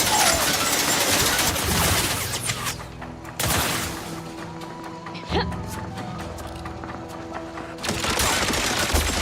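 Gunfire from the video game The Outer Worlds 2 comes in dense, loud bursts of rapid shots. A short lull falls in the middle before the shooting resumes, with game sounds layered over it.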